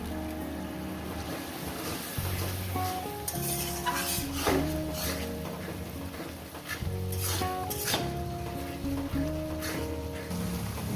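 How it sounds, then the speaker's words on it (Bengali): Chicken coated with turmeric and cumin powder is stirred and fried in a pan, a continuous sizzle with repeated scraping of the spoon over background music; no speech. "হলুদের গুঁড়ো জিরের গুঁড়ো দিয়ে দিলাম এবার এটা কষবো"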